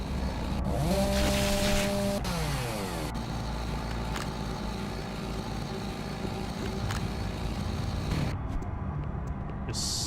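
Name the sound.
chainsaw running in the video game DOOM 3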